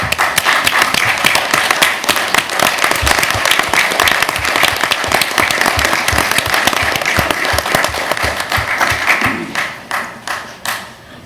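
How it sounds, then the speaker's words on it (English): Loud, sustained applause from an audience at a school board meeting, dense clapping from a large crowd that thins into scattered claps and dies away at the end. "will you please stand so we can give you a round of applause?"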